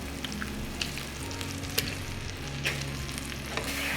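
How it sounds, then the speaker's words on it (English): Mushrooms and garlic fry in a pan with a steady crackling sizzle, punctuated by occasional sharp clicks and spatters, close and moderately quiet, with no voices. "we're gonna take our mushrooms and garlic and put them in first"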